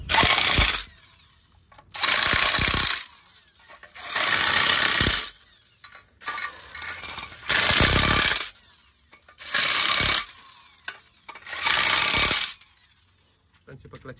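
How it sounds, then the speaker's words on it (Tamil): Tools work on the clutch of a Mahindra Xylo H4 in a repair job: about seven loud, close bursts of harsh power-tool whirring, each lasting roughly a second, with short quieter gaps between them. "இப்போ நான் இந்த கிளச் எல்லாமே நான் ஃபிட் பண்ணுறேன்."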